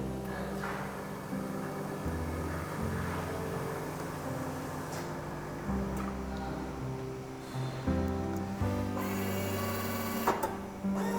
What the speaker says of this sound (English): Then I am going to touch cappuccino button. Now dispensing has started.